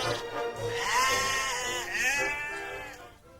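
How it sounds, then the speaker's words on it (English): Sheep bleat loudly and close in the English village of Marsden, one long wavering bleat after another with a rising and falling pitch over faint background noise. "sheep are far more intelligent than we've ever given them credit for"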